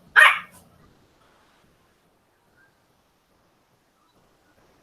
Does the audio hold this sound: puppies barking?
yes